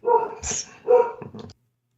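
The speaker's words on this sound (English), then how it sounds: "Oh, the dog started barking at that one." A dog barks a few times in quick succession, short sharp yips at close range, then falls silent.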